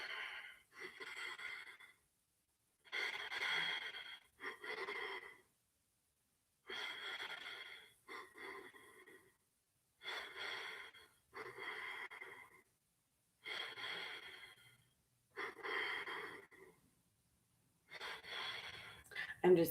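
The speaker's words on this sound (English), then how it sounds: "Inhale, double exhale." Breathing exercise during a morning meditation: a sharp inhale followed by a double exhale, repeated in steady cycles of close, airy breath bursts separated by short pauses.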